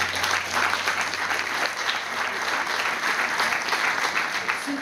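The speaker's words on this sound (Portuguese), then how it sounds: "Aplausos." Applause at a swearing-in ceremony for local government officials, a sustained, even clatter of many hands clapping together at moderate volume throughout, with no speech.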